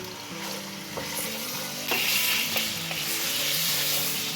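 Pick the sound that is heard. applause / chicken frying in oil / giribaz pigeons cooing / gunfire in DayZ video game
chicken frying in oil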